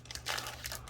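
Crinkly plastic packaging is pulled off a Kindle Fire HD 10 Plus tablet in a quick close burst of rustling and crumpling, without speech.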